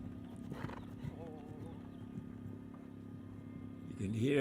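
A show jumping horse moves through an eventing nations cup jumping round in Pratoni, Italy, with soft hoof thuds and a snort under distant commentary, swelling to a louder crowd-like surge near the end.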